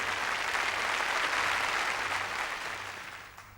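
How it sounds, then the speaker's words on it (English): An audience at a 2002 Indian Television Academy awards show claps in a dense, sustained burst of applause that slowly fades toward the end. "People are actually clapping."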